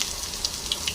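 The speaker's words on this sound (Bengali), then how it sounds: "এবার দিয়ে দেব মৌরি, দিয়ে দিলাম। এবার দিয়ে দেব আদা কোচানো দিয়ে দিলাম।" Fennel seeds and ginger paste sizzle in hot oil for a paste-based paneer and potato curry, a steady close hiss with a few soft crackles and stirring ticks and no voices.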